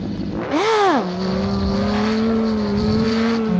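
A motorcycle engine revs sharply up and drops back during a wheelie attempt, then settles into a steady loud drone at higher speed, close by, alone without talking.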